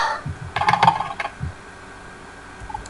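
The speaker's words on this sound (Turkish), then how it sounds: "Hayvan gibi basıyorum şu an mouse'a." A computer mouse is pressed hard during a Minecraft SkyWars match, giving a quick burst of loud, close clicks followed by quieter room noise.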